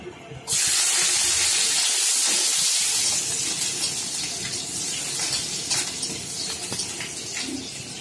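A sudden loud hiss as garlic hits hot oil, settling into a steady bright sizzle that continues throughout.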